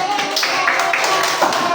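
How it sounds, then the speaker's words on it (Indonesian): Classroom applause for group 4 during a university teaching session in Palangka Raya, a dense run of hand claps with some tapping, steady and fairly loud throughout, with faint talk mixed in. "kita kasih tepuk tangan untuk kelompok 4"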